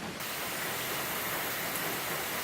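Steady, dense hiss of rain pouring down outdoors, loud and continuous with no gaps and no voices.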